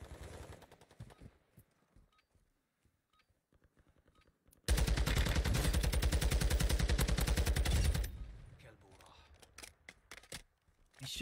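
Video game gunfire, a sustained loud burst of rapid automatic shots lasting a few seconds, preceded by scattered quieter single shots and followed by more sporadic firing, with someone talking faintly around it.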